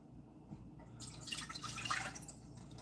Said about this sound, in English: we're going to pour a cup of water into this pot